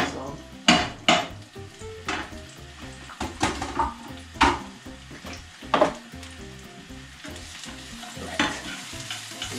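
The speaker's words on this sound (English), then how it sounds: "Listen to that sizzle." Food sizzles steadily in a hot pan while a utensil stirs and scrapes, with sharp clinks and clatters of metal against the pan.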